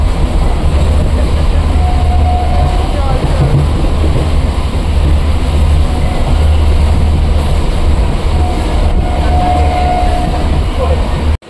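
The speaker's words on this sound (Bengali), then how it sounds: "স্টেশনে আসার সাথে সাথেই ট্রেন ঢুকে যায়" A train pulls into Chakdaha station in the rain, giving a loud, continuous rumble and rattle of wheels and carriages that fills the whole stretch and cuts off abruptly at the end.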